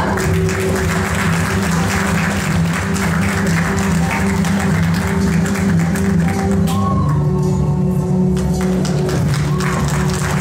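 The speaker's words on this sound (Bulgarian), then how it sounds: "Аплодисменти за модела на професионална гимназия по облеклово и стопанско управление град Дупница" Loud, sustained applause from a crowd at a national young fashion talents competition in Varna, greeting a model on the runway, steady clapping throughout over a humming music bed.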